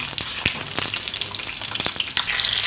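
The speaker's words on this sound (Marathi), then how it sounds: "आता या मिरच्या आपण सगळ्या तेलात सोडून चांगल्या डाग होईपर्यंत भाजून घ्यायचे" Green chillies crackle and sizzle in hot oil as they blister, a steady dense hiss with sharp pops scattered throughout, close and fairly loud with no talking.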